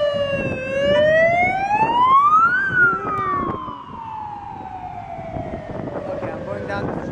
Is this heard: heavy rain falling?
no